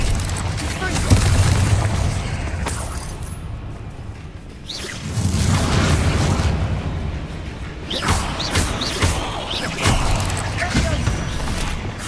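A Confringo fire spell bursts in Hogwarts Legacy, a deep booming blast with a whooshing rush, followed by further rumbling impacts and crackles across a dense game soundscape.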